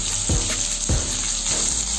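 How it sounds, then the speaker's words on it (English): Sliced onions, green chillies and garlic fry in hot oil in a pan, giving a steady close sizzle with a few soft stirring scrapes. "Fry it till the onion turns into golden brown."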